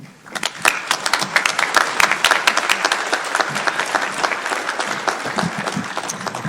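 An audience at a CCC winter commencement applauds to welcome the keynote speaker: dense, steady clapping from a large crowd that swells quickly and carries on throughout.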